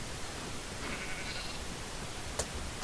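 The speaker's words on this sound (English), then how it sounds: "Now there's a sheep." A single sheep bleats faintly and from some distance over a steady background hiss, with no one talking.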